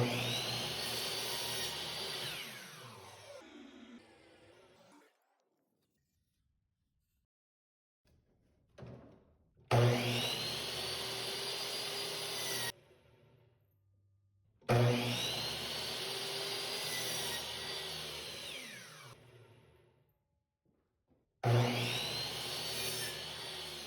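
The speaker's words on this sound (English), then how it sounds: "You're cutting it with a jigsaw" A jigsaw cutting through wood in several loud, sustained runs of a few seconds each, separated by short pauses of near silence.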